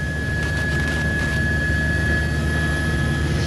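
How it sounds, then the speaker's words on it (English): A news helicopter in flight heard from inside the cabin, a loud, steady engine and rotor drone with a constant high whine and no break. "what we can tell you right now from up here in Chopper 4"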